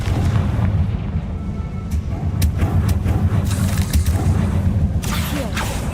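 A Confringo blasting spell in Hogwarts Legacy goes off in loud rumbling explosions, with several sharp crackling bursts standing out over the heavy low boom.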